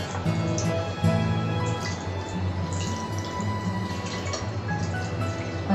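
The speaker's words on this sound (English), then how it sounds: "Then start rinsing your hands thoroughly, at least 2 to 3 inches away from your wrist." Water runs steadily from a tap while hands are rinsed beneath it during a caregiving handwashing routine, with dripping and splashing close by and a faint background hum under the continuous flow.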